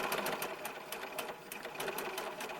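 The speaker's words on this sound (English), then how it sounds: "So I'm going to sew right till about there." A sewing machine stitches a seam on a small doll coat for a ball-jointed doll, a steady, even rattle of fast stitches running continuously at moderate loudness with no talking.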